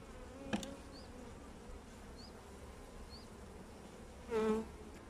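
A steady, quiet hum of many honeybees buzzing together at a hive, with one louder bee droning close by near the end.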